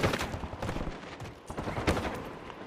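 Rapid gunfire in a multiplayer shooter video game rattles in quick, uneven bursts, loud and close, with overlapping shots filling the whole moment.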